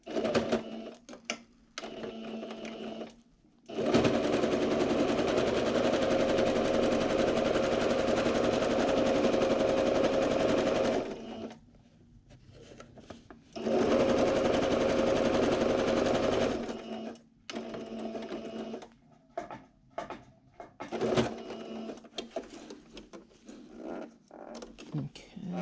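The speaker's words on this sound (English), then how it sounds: "I'm gonna stitch all the way." Sewing machine stitching a fabric face mask with a nose piece, two long steady runs of rapid mechanical whirring separated by a pause, with quieter handling sounds between and after.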